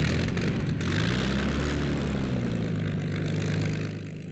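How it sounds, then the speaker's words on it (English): Mustang fighter-bomber piston engines start and run at an RAF airfield, a loud, rough propeller drone with a rising and settling pitch, steady and close, fading slightly at the end. "Engines burst into life."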